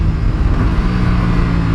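A 2025 Aprilia RS457 motorcycle engine growls up close, a short throttle blip with a rough, pulsing exhaust note.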